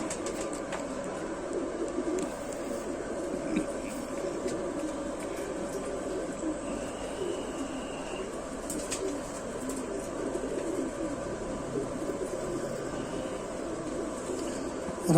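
Original Rampur pigeons, a rare breed, coo softly amid a continuous, busy background noise that runs steadily throughout.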